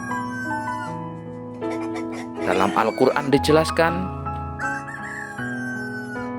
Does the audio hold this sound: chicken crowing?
yes